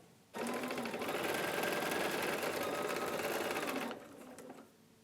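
A sewing machine stitches a Plaid Sash-ay quilt block of Wilmington Prints fabric, starting abruptly into a fast, even mechanical whir for several seconds before slowing and stopping.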